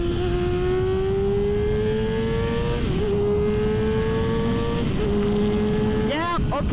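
A Kawasaki ZX6R 636 motorcycle accelerates hard through the gears, its high-pitched engine whine climbing steadily, dropping briefly at each shift, then rising again, loud and close throughout.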